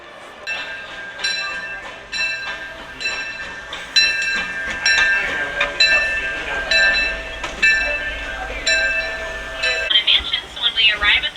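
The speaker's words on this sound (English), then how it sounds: "Welcome aboard the Disneyland Railroad." Disneyland Railroad train running through the Disneyland theme park, with repeated bright ringing tones and rhythmic rail clatter, a steady close rumble underneath and a busier burst of metallic chiming near the end.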